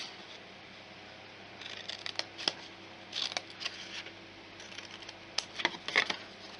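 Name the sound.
scissors trimming paper for an Easter box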